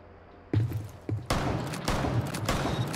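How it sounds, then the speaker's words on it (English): M870 shotgun fired from the hip in Rainbow Six Siege: a single sharp blast, a second shot a moment later, then a heavy, sustained rumble of further firing and movement that stays loud to the end. "a shotgun that you all know and love, the M870. Hit fire"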